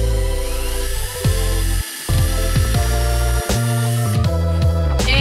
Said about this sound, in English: I'm going to take my pre-drill and go all the way through into here so I don't crack the wood